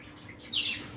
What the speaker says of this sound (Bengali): ছোট্ট ছোট্ট পাখিগুলো